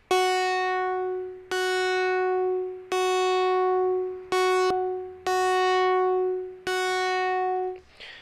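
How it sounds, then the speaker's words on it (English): A bright synth note swells in a repeating pattern under a downward sawtooth LFO: six pulses that each start sharply at full loudness and then fade away steadily before the next abrupt attack. "in this synth, we also have a sawtooth."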